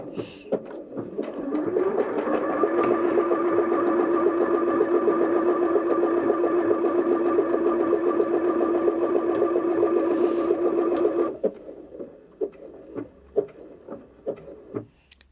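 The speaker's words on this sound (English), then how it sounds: "it'll finish a complete pattern formation before it stops sewing" A Bernette B38 sewing machine runs a stitch pattern at an even, fast hum with rapid needle ticking, stopping abruptly near the end, followed by a few soft clicks.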